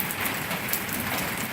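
Heavy rain pouring down during a flash flood warning, a steady close hiss of drops drumming on surfaces with no pauses and no voices.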